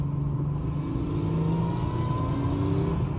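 A Jaguar XJR6 engine drones steadily from inside the car while driving, the revs rising and settling slightly under a constant low rumble.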